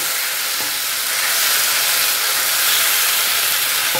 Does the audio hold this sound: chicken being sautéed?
yes